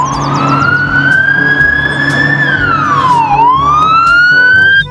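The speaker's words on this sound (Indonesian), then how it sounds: "ini mobil polisi patroli" A police patrol car siren wails loud and close, rising slowly, then dipping sharply and climbing again over a steady low engine rumble for the whole stretch.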